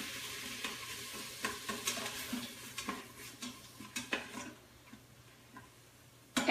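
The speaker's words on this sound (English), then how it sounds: "And let me give it a stir." Beef stew being stirred in a slow cooker after flour goes in to thicken the sauce, a spoon scraping and clicking against the pot in irregular close strokes, with soft sizzling underneath.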